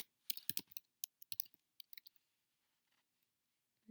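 Fingers type on a computer keyboard in a quiet room, a burst of quick, soft, irregular key clicks that thins out to a few scattered taps.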